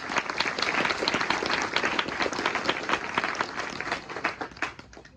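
A church congregation at Mass claps together in a steady, full-room wave that holds for several seconds, then thins into scattered claps near the end.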